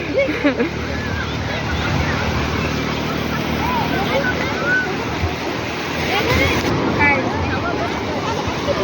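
Sea waves wash at a beach in Malvan as a steady broad roar, with someone speaking Marathi over it and other voices and bird-like chirps scattered faintly in the background.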